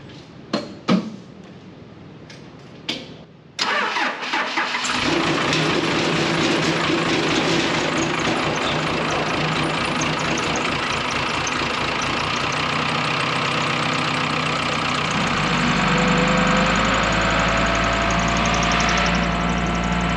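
A few brief clicks and bumps, then an engine cranks and catches, settling into a steady, loud idle that runs on with a low rumble.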